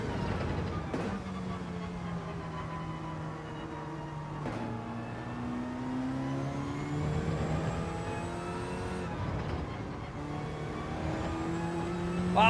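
A GR.3 race car in Gran Turismo 7 accelerating hard, its engine note climbing steadily through the gears with brief dips at each upshift, loud and continuous with no talking.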